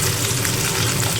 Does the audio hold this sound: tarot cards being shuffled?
no